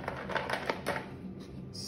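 Plastic clothespins clipped one after another onto a card, giving a quick series of light, close snaps and clicks that fade into quieter handling sounds.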